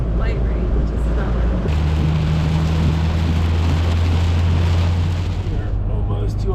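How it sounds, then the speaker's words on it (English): Hail mixed with rain pelts a vehicle driving through Pittsburgh, a loud, dense hiss and patter over engine rumble that holds steady for several seconds, with voices talking over it. "Little hail coming down in the mix too."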